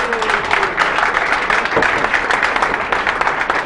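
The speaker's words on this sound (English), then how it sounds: "Let's give them another round of applause." Audience applause for program speakers at a gathering, continuous clapping at a fairly loud, even level with some room noise.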